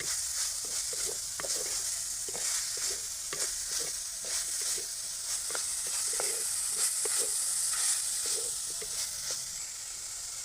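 Pirandai and tamarind sauté in a pan for chutney under a constant bright hiss of frying, broken by regular soft scrapes and taps of a stirring spoon, close up with no talking.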